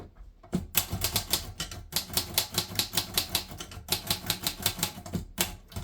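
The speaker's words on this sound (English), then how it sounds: "you'll notice a typewriter has a few challenges, one of them being the sound." A typewriter is typed on a thick wool pad, a steady run of sharp, close key clacks in quick bursts, with brief pauses between typed runs and no voices.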